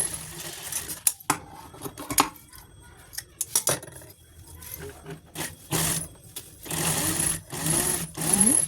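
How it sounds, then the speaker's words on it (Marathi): Sewing machine stitching a purse made from blouse-piece fabric, heard as short and longer bursts of fast mechanical whirring separated by pauses, close and moderately loud, with light handling clatter between runs. "वरून शिलाई मारायची एक्स्ट्रा कापून टाकायची याच्या पण वरून तशी शिलाई मारायची"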